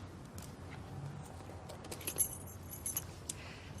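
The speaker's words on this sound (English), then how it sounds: "Tommy, give her the keys." Keys jangle in a few light metallic bursts as a set is handed over during a police arrest outside a flat, with soft shuffling and street background around them.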